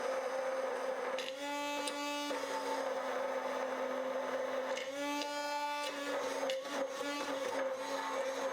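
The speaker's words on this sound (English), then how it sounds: "we're going to put our immersion blender all the way to the bottom and just blend on high" An immersion blender runs steadily on high at the bottom of a container of egg and bacon grease, a loud continuous motor whine with pitch shifts as the mixture thickens and emulsifies into bacon mayonnaise.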